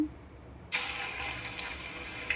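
Chicken pieces drop into hot oil for deep frying, and after a quiet start a sudden loud sizzle bursts up close. The hissing holds steady and dense to the end.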